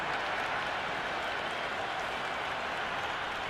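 A cricket crowd applauds a boundary four with steady, sustained clapping and a dense wash of cheering that holds at an even level throughout.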